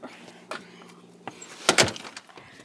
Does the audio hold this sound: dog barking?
no